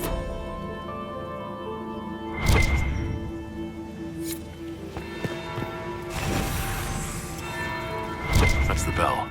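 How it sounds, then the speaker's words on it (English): A deep church-style bell tolls in Dragon Age: Inquisition, with about three resonant strikes a few seconds apart ringing out over a steady, low game ambience. "That's the bell."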